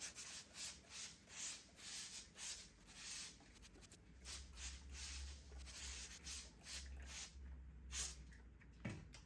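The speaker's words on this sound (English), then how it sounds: "I give it a nice thick spritzing with a spray bottle" A spray bottle spritzes water repeatedly up close, quick hissing pumps in a steady rhythm with faint handling noises.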